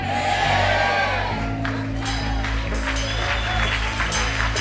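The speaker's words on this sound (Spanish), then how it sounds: "Acá sí lo va a aplaudir, hágalo fuerte." Church congregation applauding during a service, a burst of clapping with scattered whoops and shouts rising over a low organ-like drone, fairly close and lively.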